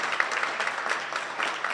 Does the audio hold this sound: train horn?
no